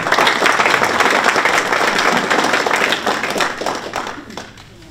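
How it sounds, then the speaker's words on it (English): A room full of audience members clapping for a guest, a dense burst of applause that holds steady for several seconds, then thins and fades away. "Let's give James a big round of applause."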